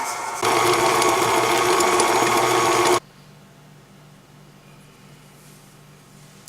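An electric stand mixer creams butter and sugar for sugar cookie dough, a steady loud mechanical whir running for a few seconds before cutting off abruptly, leaving quiet room tone.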